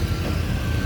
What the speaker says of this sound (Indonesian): Ini juga ada truk yang mau mencoba menuruni tikungan adsense Tinjau